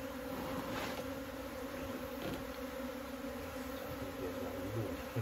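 Wild honeybees swarm into a hive box, a dense steady buzzing hum of many insects close by, continuous and even throughout.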